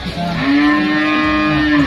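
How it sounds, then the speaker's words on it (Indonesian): A single cow lets out one long, loud, close moo that holds steady for over a second on a rural hillside where many cattle are kept. "Ya kita banyak suara sapi di sini ya, banyak sapinya."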